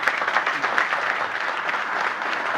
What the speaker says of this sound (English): I'd ask you to give them a round of applause and thank them for joining our company